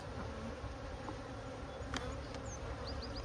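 Honey bees swarm around an open hive on their first day out after four days confined, with eggs and larvae in the comb; a steady, dense buzzing hum holds throughout at close range.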